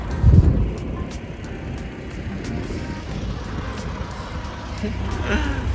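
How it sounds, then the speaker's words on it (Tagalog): Strong winter wind with snow roars and buffets continuously around a day-cab truck, blending with a low rumbling truck engine drone throughout. "Yan, malakas ng hangin no."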